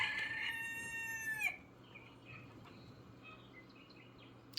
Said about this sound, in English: Okay, there's the rooster.